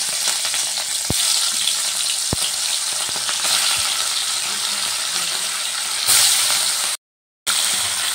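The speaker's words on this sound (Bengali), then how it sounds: "এবার যে মাছগুলো নুন হলুদ মেখে রেখেছিলাম মাছগুলো দিয়ে দিলাম।" Small mourala fish, rubbed with salt and turmeric, fry in hot oil in a wok, making a bright continuous sizzle punctuated by sharp utensil clicks, with a louder burst near the end and a brief cut to silence.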